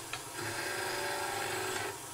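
A woodturning gouge cuts a wooden goblet spinning on a lathe, giving a steady rasping, scraping sound close by that lasts about two seconds with a brief lighter scratch at the start, and no talking.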